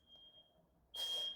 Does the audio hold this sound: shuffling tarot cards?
no